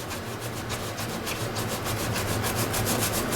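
Fingernails grind repeatedly across oxidized metal on the surface of a Q series sputter coater, giving a steady, close, rhythmic scraping with regular strokes that grow slightly louder, and no talking.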